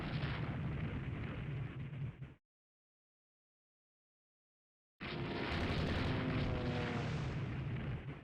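Torpedo bomber attack in the naval strategy game Rule the Waves 3: loud, rumbling explosion bursts fill the opening two seconds, break off into silence, then return as heavy booming blasts.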